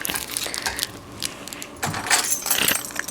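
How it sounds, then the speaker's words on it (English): Car keys jangle and clink as they are pulled from a purse, a metallic rattle in two bursts with a short lull between, close and moderately loud. "Obviously my car keys."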